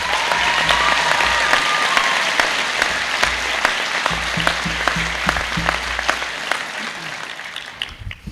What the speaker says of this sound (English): How about a big round of applause for Mr.